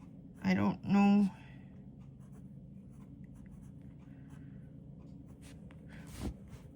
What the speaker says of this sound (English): But the nib is really smooth and they write really well.